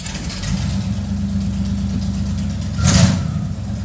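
Ford 351 Windsor V8 idling just after a cold start, a steady low rumble with a brief swell in revs near the end, close and loud.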